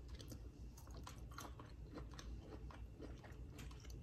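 Close, quiet crunching and wet chewing of stir-fried asparagus during a taste test, with irregular bites and mastication going on continuously.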